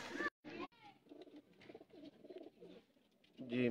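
A male Teddy pigeon coos nearby in a repeated, soft, throaty rhythm, with a voice briefly heard at the start and end.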